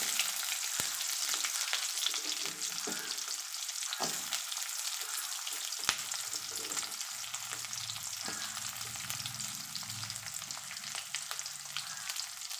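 Onions frying in hot oil with popped tempering spices for okra tamarind curry, a steady soft sizzle and crackle throughout, with scattered light stirring scrapes and taps.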